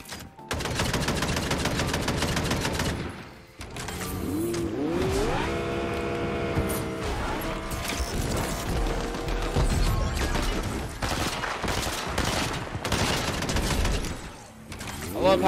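Gunfire in the Fortnite video game, with repeated sharp shots and rapid bursts over vehicle engine noise and game effects, loud and dense throughout.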